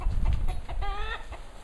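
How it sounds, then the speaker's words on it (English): Chickens and a rooster cluck outdoors in Ecuador, a short burst of close, harmonic clucking calls over low rumbling background. "There's some more chickens here. There's one of the roosters."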